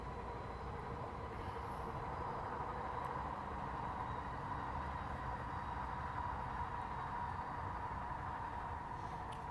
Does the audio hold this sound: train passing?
yes